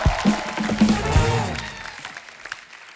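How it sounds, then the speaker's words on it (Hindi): A studio audience applauds a guest at a Hindi comedy show, a dense burst of clapping mixed with crowd noise that tapers off over a few seconds while voices talk over it. "जोरदार तालियां टीकू सर के लिए"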